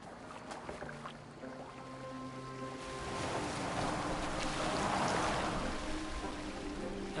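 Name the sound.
boat being rowed in Assassin's Creed Valhalla, a video game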